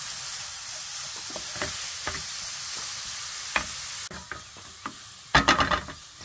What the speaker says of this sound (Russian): Обжариваем лук, порезанный полукольцами, и морковь.